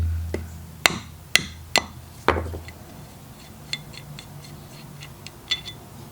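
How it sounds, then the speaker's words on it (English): A hammer strikes metal in a quick series of sharp, ringing blows during a Toyota Supra rear differential swap, followed by lighter scattered taps and clinks at close range. "and then hit it with a hammer."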